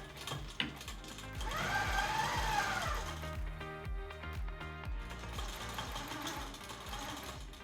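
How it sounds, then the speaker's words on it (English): A QMP 16 quilting machine sews binding onto quilt fabric with a fast, steady mechanical stitching chatter, close and continuous, varying slightly in pace with a soft click near the start. "I've sewn off my fabric at a diagonal"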